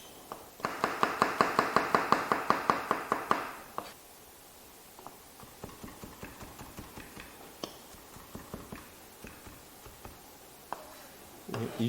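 A knife mincing garlic on a cutting board for aglio e olio, first in a fast, even burst of close, sharp chops, then slower scattered taps and scrapes, with no voices.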